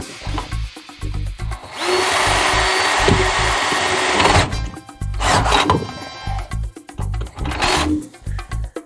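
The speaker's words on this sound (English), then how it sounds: "Got both of our holes drilled." A power drill boring holes through a metal engine mount, with two loud sustained bursts of whining drilling between short mechanical rattles and pauses, close up with no talking.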